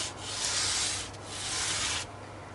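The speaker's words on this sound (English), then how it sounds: "I haven't really sanded with this resin stuff yet, so I'm not quite sure how it behaves" Sanding resin on a Tanglewood WildKat guitar: two long, steady strokes of abrasive rubbing, close and fairly loud, with a brief pause between them and a low background hum.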